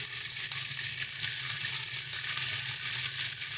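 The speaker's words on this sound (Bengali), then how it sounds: "বিনসটা আমরা আগে দিয়ে ভেজে নেব" Green beans sizzle and fry in a pan for a vegetarian bean dish, a steady close crackling hiss with light stirring noises and no talking.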